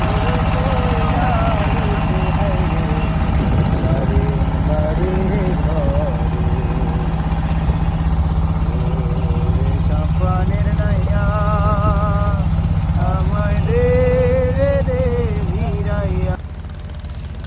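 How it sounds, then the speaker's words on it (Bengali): A small wooden trawler boat's engine drones steadily and loudly throughout, a constant low mechanical hum on the water, with people talking and singing over it before the engine note drops near the end. "এই যে এগুলো হচ্ছে ট্রলার, আমাদেরটাও ট্রলার।"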